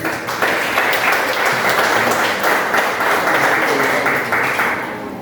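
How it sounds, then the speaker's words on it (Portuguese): Congregation applauding at a worship service held in a garage, steady sustained clapping from many hands filling the space with a dense, even wash of sound throughout. "Vamos aplaudir o Senhor mais uma vez."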